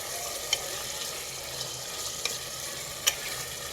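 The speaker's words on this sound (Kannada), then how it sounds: "ಆ ಚಿಕನನ್ನು ಈ ಎಣ್ಣೆಯಲ್ಲಿ ಚೆನ್ನಾಗಿ ಫ್ರೈ ಮಾಡ್ಕೋಬೇಕು" Marinated chicken fries in hot oil for a cheese burger, giving a steady, moderately quiet sizzle with a few sharp spatter pops and stirring clicks and no voices.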